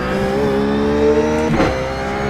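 A Ruf GT3 race car engine at Silverstone in iRacing drones loud and steady, its pitch holding through the corner with a brief surge near the end.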